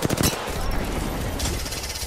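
In a video game, another team fires a dense, rapid burst of automatic gunfire, loud and close, that crackles continuously for about two seconds.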